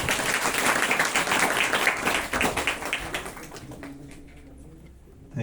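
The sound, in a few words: audience applause welcoming workshop speaker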